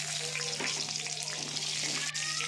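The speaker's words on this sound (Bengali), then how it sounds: "তেল গরম হয়ে গেছে, দিয়ে দিলাম। হালকা হাতে একটু ভেজে নেব। এই তেলের মধ্যে সাদা জিরে, কালো জিরে আর কাঁচা লঙ্কা আমি ফোড়নে দিয়ে দেবো।" White cumin, black cumin and green chili frying in hot oil: a dense, continuous sizzle and crackle, loud and close, with a steady low hum underneath.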